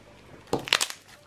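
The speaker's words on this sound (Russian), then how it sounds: "Хрустит тоже очень хорошо." Squeezed slime gives a short burst of crisp crunching and crackling, a cluster of four or five quick snaps over about half a second, close and fairly loud against a quiet background.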